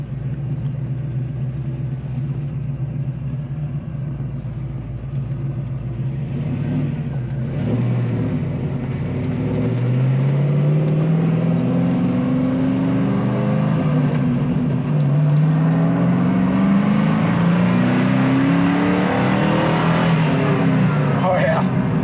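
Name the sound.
K5 Blazer engine accelerating on a drive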